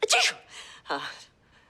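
A sharp sneeze bursts out loudly up close, followed by a softer breathy sound and a second sneeze-like burst, then quiet.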